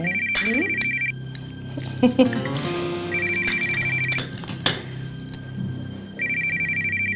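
A telephone rings in repeated electronic bursts, three rings with pauses between, while people talk and dishes clink nearby.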